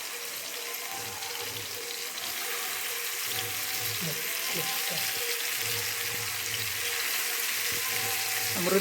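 Fish frying in a pan at home gives a steady, close, wet hissing sizzle that slowly grows louder over the whole stretch, with faint low rumbles underneath.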